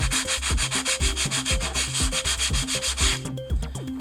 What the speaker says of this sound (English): and sand off those bulges.